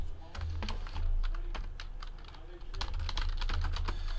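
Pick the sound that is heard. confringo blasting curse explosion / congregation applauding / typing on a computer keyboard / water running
typing on a computer keyboard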